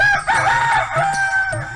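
A hen clucks up close, a short burst of clucking with no other sounds around it.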